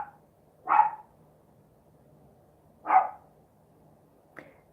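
A dog barks at the neighbors: two distinct, fairly loud barks spaced about two seconds apart, then a shorter, softer yip near the end, over a quiet room background.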